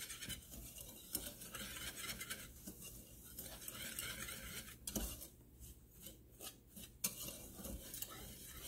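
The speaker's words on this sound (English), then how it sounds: "I'm going to add cornstarch. And I'm going to whisk this up." A whisk scrapes and rattles against a bowl while lemon sugar is mixed with cornstarch, giving a steady, fairly quiet scratching with a few sharper clinks.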